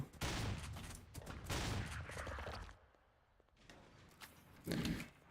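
Fireworks going off outside, heard as dense bursts of crackling bangs that come in loud waves, drop into a quieter stretch near the middle, then flare up again at the end, with no talk over them.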